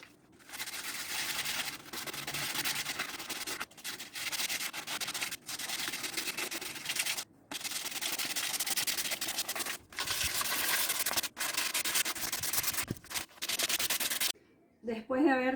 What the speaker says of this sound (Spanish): Después de haber terminado de lijar todo el pallet